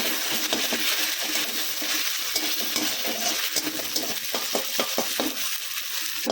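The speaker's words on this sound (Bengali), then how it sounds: "আদা লঙ্কা আর আদা রসুন আর কাঁচা লঙ্কা বাটা দিলাম। অল্প একটু ভালো করে নেড়ে নেব।" Ginger, garlic and green chilli paste stirred into frying onions in a pan, a dense sizzle with repeated quick scraping and tapping of the spatula, growing into a rhythmic run of strokes near the end.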